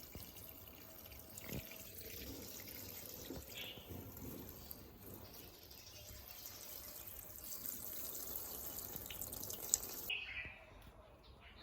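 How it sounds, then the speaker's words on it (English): Water runs steadily from a tap or hose while plants are watered, a soft continuous splashing flow that stops abruptly near the end. "How do I water?"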